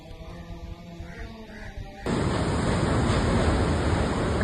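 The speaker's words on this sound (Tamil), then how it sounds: "அதிவேகமாக சுழன்று சூறாவளியாக வானத்தை நோக்கி உயர்ந்த காற்று சூழல்" After a quieter stretch of background tones, strong whirlwind gusts abruptly take over, a loud, continuous rushing roar buffeting the microphone.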